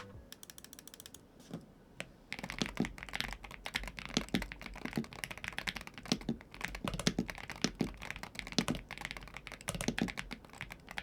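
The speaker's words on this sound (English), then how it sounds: "here's a little sound test with the ceramic keycaps." Rapid, steady typing on a Pwnage Zenblade 65 V2 keyboard with ceramic keycaps, a slightly muted, solid clack on each keystroke, close up and continuous with no talking.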